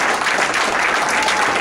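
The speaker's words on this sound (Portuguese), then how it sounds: "E aplauda ao Senhor" A standing church congregation claps together during a New Year celebration welcoming new members, a continuous wash of dense applause with no speech over it.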